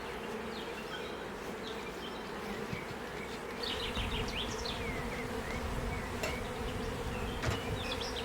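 A honeybee swarm from an artificially split hive buzzes steadily and densely up close, a continuous drone with individual bees whining past.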